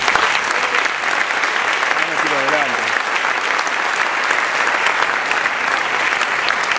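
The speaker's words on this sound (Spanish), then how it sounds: "Así que un aplauso para ellos, por favor." Loud, sustained applause from an audience at a political and journalistic panel event in Argentina, dense steady clapping throughout with a brief voice rising over it near the start.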